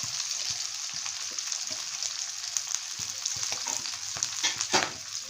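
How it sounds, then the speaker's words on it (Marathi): Onions frying in a pan for chicken chilli, a continuous moderate sizzle with intermittent stirring scrapes and clicks from a spoon, no voices. "आता मी कांदा टाकून घेते"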